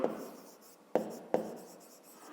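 A pen writes out a fifth-grade maths solution in close, quiet scratching strokes, with a few sharper taps as new marks begin.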